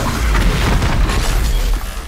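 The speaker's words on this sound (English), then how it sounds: "That thing just exploded." Machine blowing up in Horizon Zero Dawn: a loud, sustained deep boom with rumbling debris, filling the whole moment before tailing off slightly.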